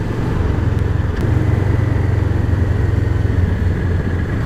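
A Kawasaki ER-6n motorcycle on a road ride gives a steady, close mid-pitched engine drone with an even throb, running unbroken and fairly loud for a few seconds without any talk.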